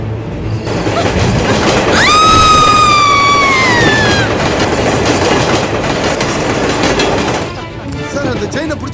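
A passenger train runs on rails with a loud, close rumble and rhythmic clatter, joined midway by a rising squeal of wheels, while voices speak over the noise.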